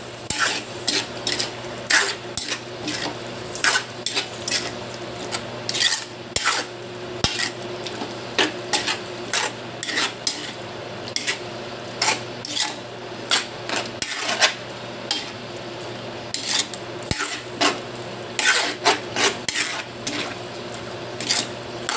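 Pork menudo with oyster sauce stirred in a pan, a series of irregular metallic scrapes and clinks of a utensil against the pan over a faint low hum, repeated throughout without talking.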